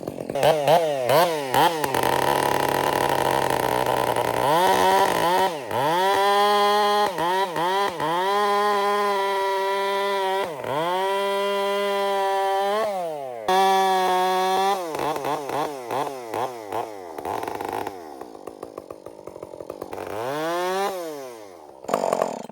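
A chainsaw with an aftermarket exhaust and a hand-filed Oregon full-comp chain with set rakers runs loud and close, revving repeatedly between idle and full throttle in long pulls and quick blips.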